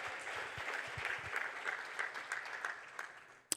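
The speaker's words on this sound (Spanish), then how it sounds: "si es para el Señor, le damos un fuerte aplauso" A church congregation gives a hearty round of applause, dense steady clapping from many hands that carries on for several seconds and thins out toward the end, with one sharp clap at the close.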